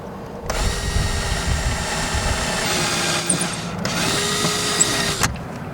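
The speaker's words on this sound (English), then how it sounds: "mark where I can drill" A power drill drilling into an Arima boat's dash, whirring steadily in two long bursts, near and loud, with a brief pause between them and grinding as it bites into material.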